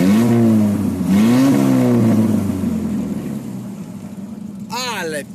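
A 1955 Morgan car's engine runs close by with rising and falling revs, the pitch sweeping up and dropping back several times over a steady low rumble, with a brief higher-pitched squeal near the end.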